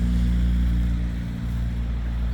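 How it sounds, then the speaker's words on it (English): Morning road traffic makes a steady low rumble that drones on without a break, distant and even, with no voices over it. "now there's a lot of traffic."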